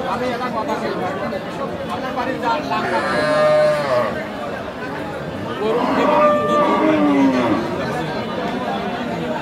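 A Sahiwal cow with her calf at the Aftabganj cattle market in Dinajpur gives two long, loud moos close by, over a constant hubbub of crowd chatter and voices.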